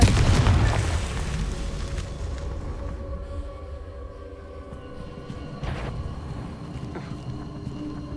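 A Confringo blasting curse erupts in Hogwarts Legacy, a heavy boom at the start that rolls off into a long rumbling tail with a faint crackle.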